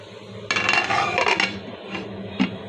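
A metal lid clatters onto a cooking pot of braised country chicken (deshi murgi bhuna). There is one sharp, close scrape and rattle, then fading rubs and a small final clink, with no talking.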